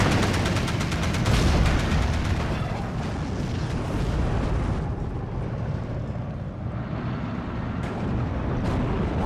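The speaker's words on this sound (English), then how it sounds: "Tanner is using now his strong ability to use the mortars, and he's gonna destroy the 17 pounder" Mortar fire and explosions in the WWII strategy game Steel Division II come as a dense, continuous barrage of loud booms and blasts, busiest in the first few seconds, then a steady rumbling roar with no voices.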